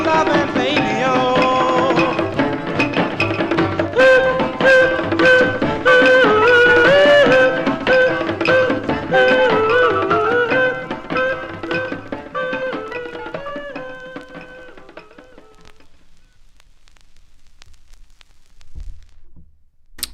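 A debut doo-wop single plays from a vinyl record, vocals over a full band, loud and steady before fading out into near silence near the end.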